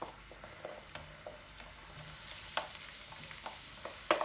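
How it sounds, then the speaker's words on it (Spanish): Sliced garlic and julienned onion fry in hot olive oil in a pan. The sizzle is soft and steady, with light stirring clicks and scrapes coming at intervals. "Cuando el aceite empiece a calentar, vamos a añadir los ajos laminados y la cebolla"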